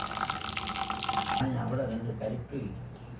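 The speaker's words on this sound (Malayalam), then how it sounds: "രണ്ടാമത് നമുക്ക് കഴുകാം." Water runs and splashes as beef is washed in a pot during home cooking for beef curry, a steady tap-like rush for over a second, then quieter sloshing beneath a voice.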